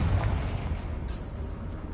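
A loud, deep, rumbling blast from the Confringo explosive spell in Hogwarts Legacy, with a brief crackling burst partway through as the boom slowly fades.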